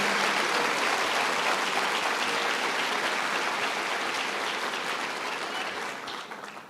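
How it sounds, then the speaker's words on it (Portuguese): Congregation clapping for Jesus in a Portuguese-language church service, a full, steady burst of applause that holds strong and then gradually thins and fades toward the end. "Se você acredita, se você tem fé, aplauda o Senhor Jesus."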